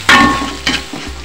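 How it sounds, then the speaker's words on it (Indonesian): Spice paste hits hot oil and stir-fries for an eggplant dish in oyster sauce, three short sizzling bursts in quick succession, close and fairly loud. "ini minyaknya udah panas ya, lalu kita tumis bumbunya."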